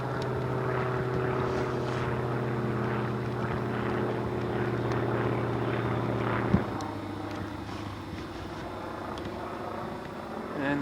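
An aircraft near Van Nuys Airport drones steadily overhead from a backyard, a loud continuous engine hum with a sudden drop in pitch midway, then a fainter drone to the end.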